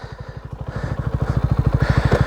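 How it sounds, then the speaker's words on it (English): A Honda CB125r motorcycle engine running close by, a steady rapid low putter with regular pulsing beats that grows slightly louder and more insistent, with no talking. "Plateless CB125r. Don't you feel and sound good?"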